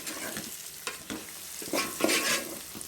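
Beaten egg with chili powder is stirred in a hot pan, giving a steady frying sizzle broken by several scraping, clattering stirs of the spoon against the pan, close and fairly soft.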